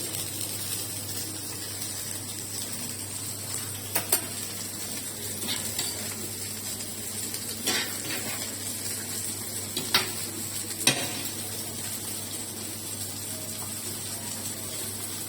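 Chicken frying in a pan for shawarma at a shop in Nazilli makes a loud, continuous sizzle, broken by a few short metallic clinks and scrapes from stirring.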